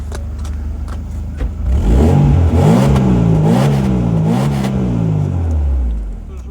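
Parked car with a 1.8 engine and robotized gearbox at a Bishkek used-car market, revved a few times, the engine note rising and falling loudly close by before settling back to idle.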